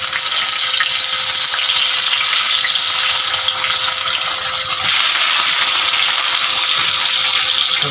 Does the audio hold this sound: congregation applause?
no